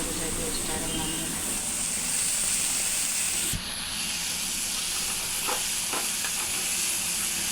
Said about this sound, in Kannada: ಬದನೆಕಾಯಿ ಬೇಗನೆ ಫ್ರೈ ಆಗ್ತವೆ